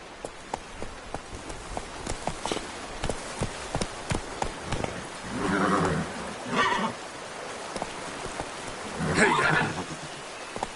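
Horse galloping in The Witcher Wild Hunt, a steady run of hoof thuds with a couple of whinny-like bursts, fairly close and alone without talk.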